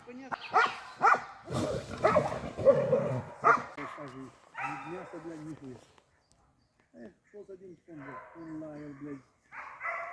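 Laika hunting dogs bark repeatedly in quick, uneven bursts during badger trial work, some high yips and whimpers mixed in, close by and fairly loud, with a few pauses between volleys.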